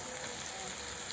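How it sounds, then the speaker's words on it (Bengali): Onions and vegetables fry in a pan for egg chowmein, producing a faint, steady, even sizzle with no breaks. "দেখুন পেঁয়াজ হালকা করে ভেজে নিয়েছি, এবার আমি ভেজে রাখা সবজিগুলো তুলে দেবো ওর মধ্যে"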